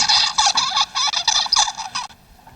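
A played recording of a juvenile songbird's song: a rapid, dense run of high warbling and chattering notes for about two seconds, then silence.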